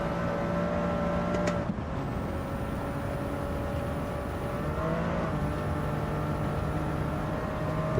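Turbocharged race car engine in a driving game time trial, a steady sustained drone with a brief shift around two seconds, continuous and fairly loud throughout.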